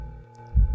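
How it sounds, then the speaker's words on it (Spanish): An old man's heartbeat, rendered as a sound effect, gives a single deep, low thump near the end over a sustained humming drone, brief and fairly loud. "el latido infernal del corazón del anciano era por segundos más fuerte, más rápido"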